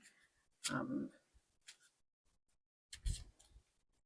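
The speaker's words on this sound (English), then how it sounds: "I kind of just shuffle until I feel like the cards are mixed up enough" A deck of cards is shuffled by hand in two short, quiet bursts of riffling and rustling, separated by a pause with faint handling clicks.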